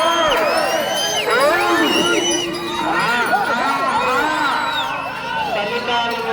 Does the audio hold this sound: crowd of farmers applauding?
yes